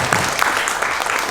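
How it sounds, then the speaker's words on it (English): Brief burst of steady clapping from a panel discussion audience, a dense crowd applause held at even loudness for just over a second. "we should have a big round of applause for all the librarians here"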